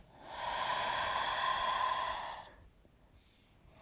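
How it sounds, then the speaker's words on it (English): A long clearing breath pushed out through the mouth during a yoga flow, a steady breathy hiss lasting about two seconds before fading into quiet room tone. "Clearing breath out through the mouth."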